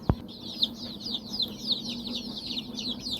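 Incubator-hatched desi chicks chirp in a rapid, continuous stream of high, thin peeps, fairly close, after a sharp knock at the start, with a low hum underneath.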